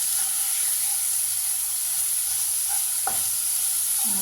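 Ginger, garlic and onion paste fry with three green chilies in a pan for a Bengali chhyachra, a loud continuous hiss and sizzle close up, with a single sharp spoon scrape near the end and no voices.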